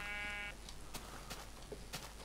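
A sheep in the video game Minecraft gives a couple of short, fairly faint bleats over a quiet in-game background, with no talking.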